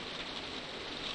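Steady rain in The Walking Dead video game, a soft, even broadband wash of falling water that holds level and fairly close for the whole moment with no break or voice over it.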